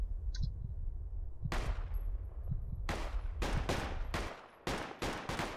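Gunfire in Project Reality co-op infantry combat: a series of sharp, loud shots, a few spaced apart and then a tight cluster of rapid reports, over quiet ambient background.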